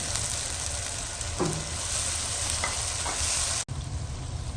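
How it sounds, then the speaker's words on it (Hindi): Tomato, ginger and garlic frying in a pot, a loud, dense sizzle that holds steady for several seconds, cuts out sharply for a moment, then resumes more softly. "अब मैं इसके अंदर टमाटर, अदरक और लहसुन डाल दूँ।"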